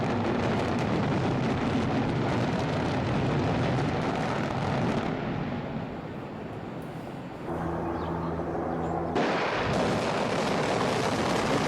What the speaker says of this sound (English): the April 28th explosion only knocked down half the bridge